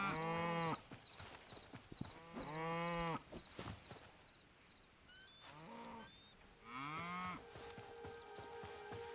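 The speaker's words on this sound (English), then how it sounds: "More cows." Cows in the video game Hytale moo repeatedly, with several long, loud lowing calls spread across the stretch and quieter ambient game sounds between them.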